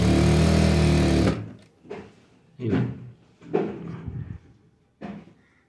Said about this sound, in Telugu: ఇలా ఒక పాదం మంద కుట్టు పెట్టి ఇలా కుట్టు వేసేసుకోవాలి